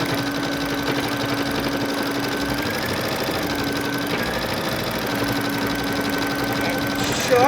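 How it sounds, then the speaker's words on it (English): An embroidery machine stitches an outline onto a kitchen towel held in a hoop, a rapid, steady mechanical chatter with a whining motor tone, close and continuous throughout. "we are going to stitch out our embroidery outline"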